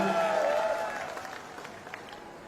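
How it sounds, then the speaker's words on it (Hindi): Crowd applause welcoming Akash Anand at a political rally in Chhachhrauli, Haryana, a steady wash of clapping that thins and fades, with a voice briefly audible at the start. "सम्मानित साथियों, उनके बीच जोरदार तालियों से गड़गड़ाहट से स्वागत चाहता हूं"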